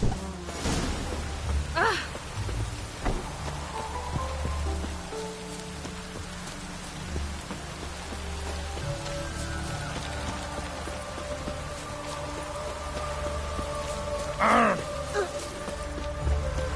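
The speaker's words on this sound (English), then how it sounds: "It's raining again." Steady rain falls in The Witcher 3 game world, a broad continuous hiss of drops on surfaces with a low ambient hum, punctuated by a couple of brief louder cries or calls.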